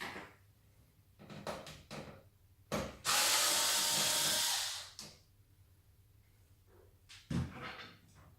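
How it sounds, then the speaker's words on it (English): A screw being undone on a Roland U-20 keyboard during a repair, heard as a few close, dry clicks and creaks, with a loud steady hiss of about two seconds in the middle and a final sharp knock. "I have to open this screw as well."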